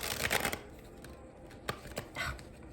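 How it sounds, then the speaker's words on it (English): A deck of tarot cards is shuffled by hand, a loud riffling burst at the start followed by scattered soft slaps and shuffles, close and without talk. "The cards have not been wanting to shuffle for me lately"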